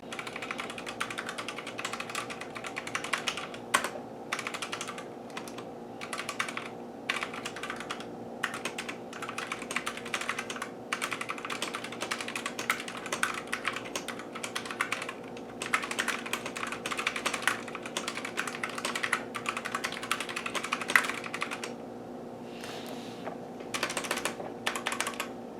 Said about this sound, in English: we can do a little typing test for you.